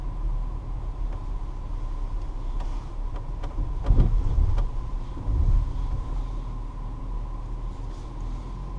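A BMW X3 drives an off-road course at the BMW Performance Center, giving a steady low engine rumble with wind buffeting and a couple of louder thumps midway.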